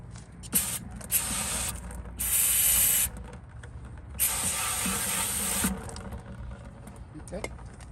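Repeated bursts of aerosol cleaner spray hiss on a Troy-Bilt pressure washer air cleaner, two longer sustained sprays among shorter puffs, close by with faint mechanical clicks.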